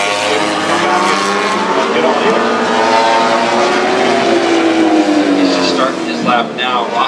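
A MotoGP motorcycle on a qualifying lap through Turn 15 at Austin, its engine note rising and falling in pitch as it passes, loud and sustained under a commentator's voice.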